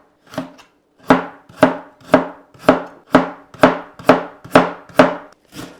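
A knife slices a carrot diagonally on a cutting board in a home kitchen: ten crisp, evenly spaced chops about half a second apart, close and distinct, with no talking.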